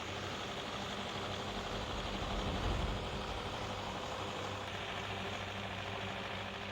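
Two tractors, an MTZ and a T40, straining against each other in a tug of war while joined by a rear cable, their engines giving a loud, steady low roar throughout with a brief surge midway.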